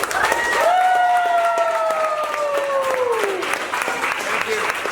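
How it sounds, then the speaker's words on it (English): Diners at Bub's Burgers in Indiana applaud after an eater finishes a one-pound burger. The clapping is loud and sustained, and a raised voice calls out over it at the start. "Everyone join me in giving him a round of applause."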